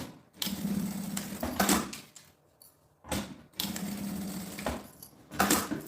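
Stitching a seam on a school bag, a sewing machine runs in three short whirring bursts separated by quiet gaps, with clunks as each burst starts and stops.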